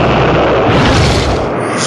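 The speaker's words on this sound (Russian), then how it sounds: "В случае утечки этих жидкостей происходит взрыв." Liquid rocket engine propellant of nitric acid and hydrogen peroxide explodes after leaking, producing a loud, dense, rumbling roar that fills the whole clip with no talking.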